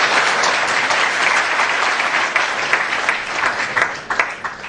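Sustained applause from an audience after a Hindi poem recital, dense steady clapping throughout with no voices, slightly thinning toward the end.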